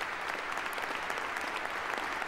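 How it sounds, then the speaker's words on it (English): Dense, steady applause from a large crowd, continuous clapping filling the whole stretch at an even level. "acknowledges the applause of former Prime Ministers, including Gordon Brown and Tony Blair"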